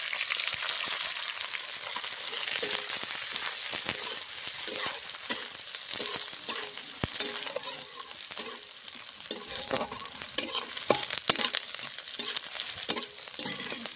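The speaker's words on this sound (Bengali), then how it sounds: "ডালটা ভাজা হয়ে গেছে হালকা" Lentils frying in hot oil with panch phoron, green chillies and a dry red chilli: a continuous crackling sizzle with dense popping and frequent stirring scrapes, steady and close throughout.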